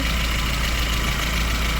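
A VAZ 2109 petrol engine idles steadily after repair work on its fuel injectors, engine mounts, oil and filters, giving a continuous, even low rumble heard up close with no voices.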